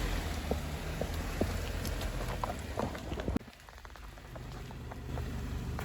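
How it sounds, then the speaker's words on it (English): Steady rain patters on a hard surface, with scattered drops ticking nearby and a brief dip in the downpour midway. "it's about to rain"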